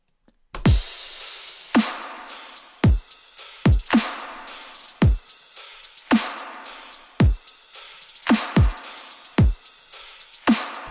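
A punchy electronic future bass drum pattern from a drop, with deep booming kicks and crisp snare hits in a steady, even rhythm, playing alone.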